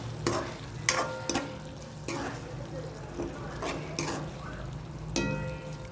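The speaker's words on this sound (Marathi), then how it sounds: "छान हलवून घेऊ." Sliced okra is stirred into a hot pan with roasted peanut powder, chili and salt, and it sizzles steadily. Several sharp scraping stirs cut through the frying at irregular intervals while a voice speaks softly.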